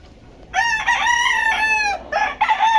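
A Gilmore Sweater gamefowl rooster crows loudly and close in a backyard, one long drawn-out cock-a-doodle call with a short broken ending.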